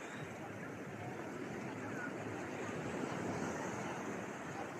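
Sea waves wash onto a white-sand beach on Thassos as a soft, continuous surf wash with some wind noise, faint and unbroken throughout.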